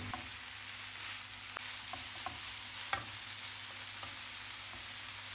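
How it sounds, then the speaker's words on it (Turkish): Continuous sizzling of spinach sautéing in a hot pan with occasional stirring scrapes and light clicks, steady and close. "Tuzunu ilave edip biraz daha kavurduktan sonra"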